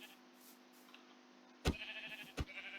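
Sheep in the game Minecraft give a bleat over a steady low game hum. Two sharp, close bleats arrive in the second half, the first longer and the second a quick short cry, with no talking.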